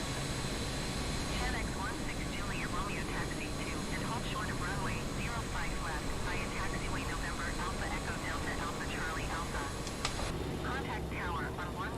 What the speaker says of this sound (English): So we've got 2 engines running.